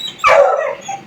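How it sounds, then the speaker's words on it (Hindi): A pet dog barks once, a single loud close yelp-like bark that trails off into a brief whine, with no voices over it. "देखो वो देखो, क्यों भौंक रहा है, क्यों भौंक रहा है?"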